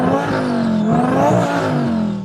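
A twin-turbo Audi R8 tuned to around 1,000 horsepower revs hard and close, its engine note rising and wavering through a continuous, loud blast.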